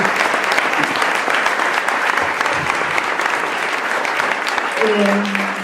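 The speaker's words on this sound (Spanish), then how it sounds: "Un aplauso muy grande para el autor" A book-launch audience gives the author sustained, dense applause, many hands clapping close by at a steady level for the whole stretch, with a brief hint of a voice near the end.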